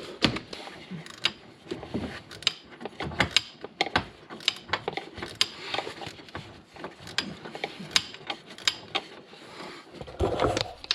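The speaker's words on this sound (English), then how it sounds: "we're going old school here with the ratcheting wrench to tighten this clamp" A hand ratcheting wrench tightens a clamp on a cold-side boost tube of a 6.7 Powerstroke diesel, giving a close, repeated series of quick clicks in uneven bursts with faint creaks and handling noise.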